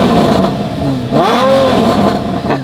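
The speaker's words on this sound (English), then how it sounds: "Go on and give it a little rev." A car engine revs up sharply from a rough, throbbing idle, pitch sweeping up and back down in one loud, close blip before settling again.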